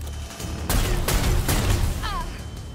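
Gunfire from the video game Necromunda Underhive Wars: a couple of loud, sharp shot bursts close together, followed by a brief electric zap, over a steady game background.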